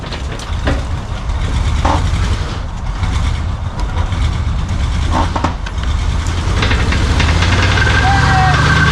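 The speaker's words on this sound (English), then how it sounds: "Hey, you got a burnout out of it." Chevrolet squarebody truck with a 350 engine and utility bed doing a burnout, a loud sustained engine roar with tire noise running steadily throughout, with brief voices over it.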